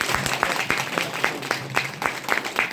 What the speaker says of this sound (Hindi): तो उनके लिए एक जोरदार ताली होनी चाहिए।